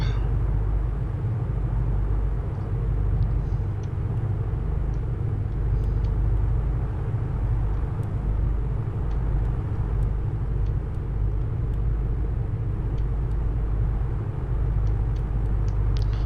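The twin engines of a Piper Aerostar idle at about 1000 RPM in a flight simulator, a steady, deep, low rumble that holds even throughout with no talking.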